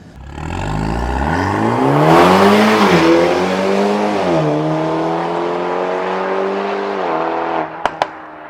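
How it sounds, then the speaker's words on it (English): A tuned BMW G20 330e with a B48 engine revs hard under boost, its exhaust rising into a loud, aggressive roar that holds steady before it lifts off and ends with a couple of sharp pops. "you now hear that the car is running a lot of boost through the exhaust as well"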